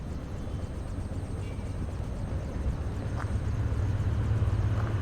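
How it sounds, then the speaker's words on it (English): Helicopter in Splinter Cell: Chaos Theory, a loud, constant rotor drone with low thudding pulses filling the whole stretch, no talking over it. "I just want to get away from the helicopter because it's so fucking loud"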